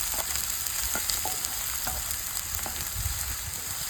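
Chopped onion sautéing in hot oil for egg bhurji, a steady broadband sizzle with several sharp spatula scrapes and taps against the pan, close and continuous with no voices.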